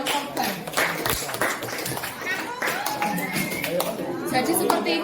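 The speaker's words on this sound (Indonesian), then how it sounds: "kita beri tepuk tangan untuk kelompok 3" A school class claps for a student group during a guidance lesson on anti-bullying, scattered uneven clapping mixed with lively chatter and voices of students in the room.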